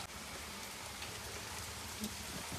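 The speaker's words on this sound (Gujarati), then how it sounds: "વરસાદ આવી ગયો એટલે હવે જ્યાં લગી વરસાદ આવે" Rain falls on a rooftop terrace during a family outing, a dense, steady hiss of drops spread evenly throughout, with no talk.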